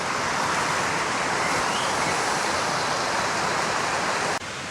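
A river flowing beside a bridge near a Scottish castle, a loud, steady broadband rush of water that continues unbroken and stays constant throughout.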